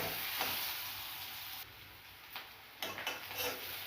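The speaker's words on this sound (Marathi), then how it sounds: "छानपैकी तेलात हा कांदा फ्राय करून घेऊयात आपण" Onion sizzles in a little oil in an iron kadhai, a continuous close hiss with occasional stirring clicks and scrapes toward the end, no voices.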